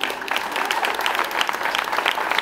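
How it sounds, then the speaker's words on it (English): Audience round of applause at an arena opening event, a steady, full wash of many hands clapping together at moderate level throughout. "please join me in a big round of applause for Jeff Cohen."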